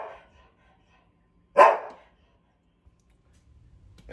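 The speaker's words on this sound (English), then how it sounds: "I apologize for the dogs barking" A dog gives a single sharp bark at close range, loud and brief between stretches of quiet, with faint bark-like sounds at the start and end.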